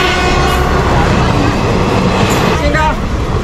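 A Konkan Railway passenger train, the Mangalore–LTT service, rolls past close by with a steady, loud rumble and rail noise throughout, a brief horn-like tone near the end and voices partly under it.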